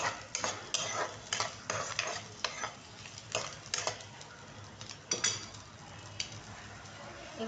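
Chillies, beans, capsicum and carrot pieces being stir-fried in oil, a spoon repeatedly scraping and tossing in the pan over a soft sizzle, close and rhythmic.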